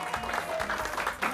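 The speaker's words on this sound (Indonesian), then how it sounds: "Oke, kita kasih tepuk tangan." Crowd applause rising at an Indonesian TV variety show as performers Pinky and Pinkan are introduced, a dense steady patter of clapping filling the short stretch with some crowd noise mixed in.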